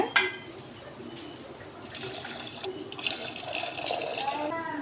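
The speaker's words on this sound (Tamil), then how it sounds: "தண்ணி ஒரு டம்ளர் கூடுதல் ஆட் பண்ணிக்கோங்க" Water splashes and pours steadily into a pot of crab rasam for a few seconds, with a voice speaking faintly in the background.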